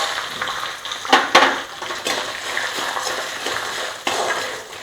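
Peanuts tossed into hot oil in a pan, with a burst of crackling and scraping followed by a steady close sizzle and a few clinks.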